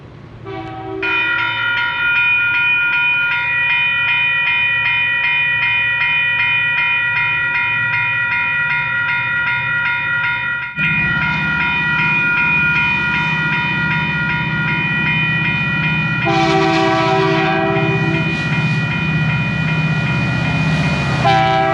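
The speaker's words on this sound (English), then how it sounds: "Yep, here comes a freight train." A freight train rolls past near the Carquinez Strait, its horn blaring in long sustained blasts over the loud, continuous rumble and clatter of the passing cars.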